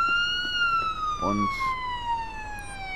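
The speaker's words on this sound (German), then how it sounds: "ich hoffe, dass ihr mit der Sirene im Hintergrund mich auch noch ausreichend versteht" A police siren wails in the background with a long, steady, slowly falling tone and its harmonics, moderately loud, while someone speaks briefly over it.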